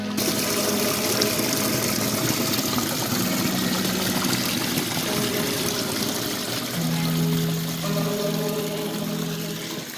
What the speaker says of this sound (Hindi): सो बेसिकली ये वो झरना है जो 24/7 बहता है।